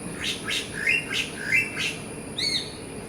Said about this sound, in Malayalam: ഞാൻ പറഞ്ഞില്ല ഇവിടെ ഒത്തിരി പക്ഷികളുണ്ടെന്ന്